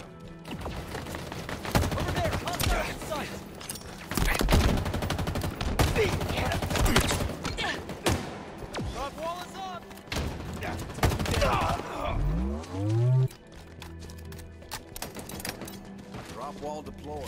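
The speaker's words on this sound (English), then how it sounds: "Taking fire!" Rapid bursts of gunfire and explosions in a Halo Infinite 4v4 bot slayer match on the Live Fire map, loud and dense, with game voice callouts over the shooting.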